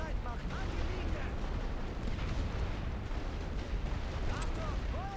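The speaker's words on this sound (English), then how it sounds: "this artillery is non-stop" Continuous artillery fire in The Great War: Western Front video game, a dense rumbling wash of distant booms and blasts under a steady roar, with voices talking over it.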